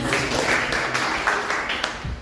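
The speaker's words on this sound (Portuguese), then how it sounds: "Quem está me ouvindo, bate 2 palmas." Listeners in a talk audience clap in response to a cue, giving a few sharp, scattered hand claps against a soft, noisy room background.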